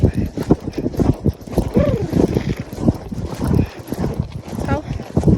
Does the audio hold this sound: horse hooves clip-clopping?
yes